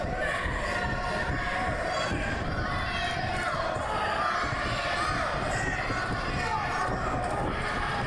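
Crowd at an NWA Appalachia pro wrestling event in Matewan, West Virginia cheering and shouting for a wrestler, a steady dense roar of many voices with chatter throughout.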